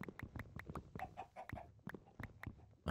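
Wood chickens in the Minecraft Sky Factory 3 modpack give soft, repeated clucks and pecking ticks in a steady irregular rhythm, close by and fairly quiet, with no talking.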